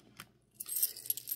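Coins taken out of a paper budget envelope: a brief clink, a pause, then a quick run of metallic jingling and rattling close by, fairly quiet, with no talk.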